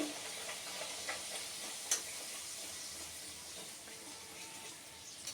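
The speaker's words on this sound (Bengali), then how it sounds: "তেলটা গরম হয়ে গেছে, এবার আমি ছেড়ে দেবো একটা একটা করে।" Dhakai parota dough sizzling in hot oil, a soft steady frying hiss with small crackles and one brief tick partway through, fairly quiet with no talking.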